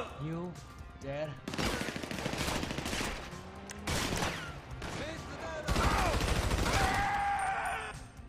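Shotgun fire during a GTA 5 Online shootout, with a string of loud, overlapping blasts and crashes across the clip amid chaotic game audio, while voices talk over the action.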